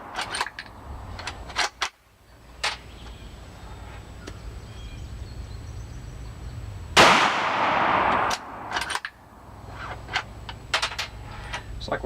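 Rifle shots ring out at a shooting range: one loud sharp crack with a ringing tail stands out, and a few sharper clicks and clacks of handling are scattered around a quiet background.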